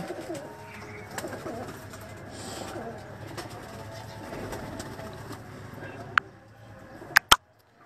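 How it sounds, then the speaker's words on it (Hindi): Vaccinated pet pigeons coo softly in a low, murmuring, repeated rumble, fairly quiet and close, with a few sharp clicks and knocks near the end. "ये जिनको वैक्सीन हो चुकी है, ये सारे कबूतर आपके सामने।"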